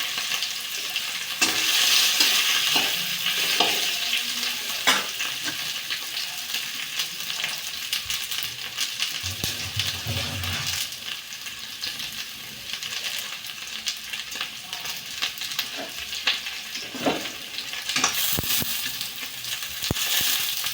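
Potatoes sizzle and fry steadily in a pan for sabudana khichdi, a continuous hissing crackle with occasional scraping stirs and light clinks of a utensil throughout.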